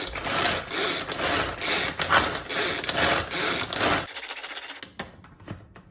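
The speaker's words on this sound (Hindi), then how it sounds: "तो दोस्तों ये मैनुअल ग्राइंडर जो है ये बड़ा मुझे मजा देता है।" Rapid ratcheting, grinding clatter of a manual hand-crank grinder chopping onions finely in a home kitchen, steady and close for about four seconds, then dropping to sparse softer clicks and taps.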